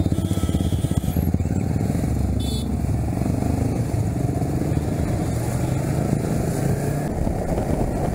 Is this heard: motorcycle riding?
yes